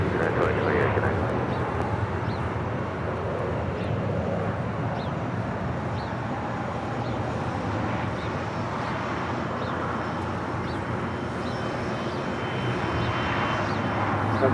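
A jet airliner roars steadily and loudly at LAX, a broad continuous rumble of engines during takeoff or landing, with a voice speaking faintly under it.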